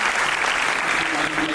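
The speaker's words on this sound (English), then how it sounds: "clap for her" Audience clapping for a student at a CA students' national conference, a brief, steady burst of dense applause filling the whole moment, with a faint voice under it.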